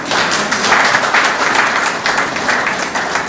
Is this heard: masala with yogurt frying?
no